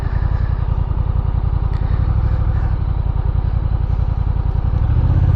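A Honda Rebel 1100 DCT motorcycle rolls slowly around a parking lot, its engine giving a steady low, even throb close by throughout, with no speech.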